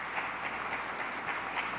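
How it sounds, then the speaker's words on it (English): An audience at a state press briefing claps together in a steady, even round of applause that sounds somewhat distant and continuous throughout. "Let's give a round of applause for"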